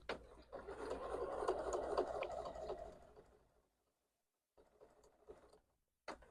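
A BERNINA sewing machine stitches quilt binding with a lap seam foot, giving a steady mechanical whirring for about three seconds before it stops, followed by a few faint scrapes and handling sounds.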